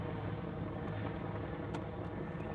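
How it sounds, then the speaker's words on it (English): A Bell 412 helicopter passing over a golf course, a faint, steady low rotor drone that fills the background without any voices. "We do got a helicopter coming overhead, so that is the noise in the background."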